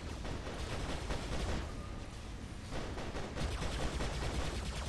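An automated turret in the War Robots video game fires continuously, producing dense, loud, unbroken gunfire that fills the whole stretch with no talk.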